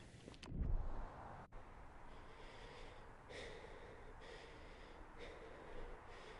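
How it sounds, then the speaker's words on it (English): A patient's breathing during a quarantine checkup in a video game, opening with a loud close snort-like gasp, then slow, faint, rhythmic breaths over a quiet hum. "That might just be what normal breathing is supposed to sound like."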